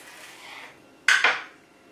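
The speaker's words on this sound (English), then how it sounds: "I'm just cutting around the edge, kind of like you would cut a mango" A knife cuts around the edge of a jalapeno, a faint scrape followed by two quick, sharp clicks of the blade against the cutting surface, close and clear with no voices.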